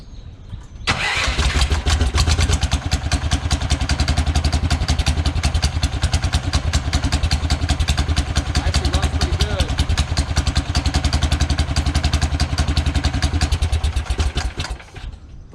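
A Predator 420 go-kart engine cranks and catches, then runs steadily with a loud, rapid putter for about fourteen seconds before cutting off.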